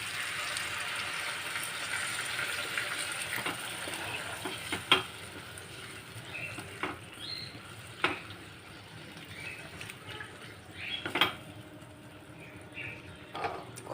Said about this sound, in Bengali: এবার গ্যাসটাকে হাই করে আর একটু কষিয়ে নেব ভালো করে